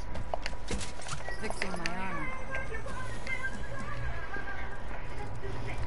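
Horse in the Realm Royale video game whinnying as it is mounted, followed by quick clip-clop hoofbeats of galloping, all under continuous talk from players.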